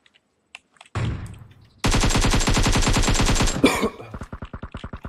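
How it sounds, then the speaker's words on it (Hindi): Automatic rifle fire in PUBG: a short burst, then a long loud rapid volley, followed by a string of evenly spaced single shots, close and sharp. "अबे क्यों क्यों चल रही गन मेरी?"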